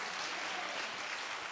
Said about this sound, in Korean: 박수 박수 박수 박수.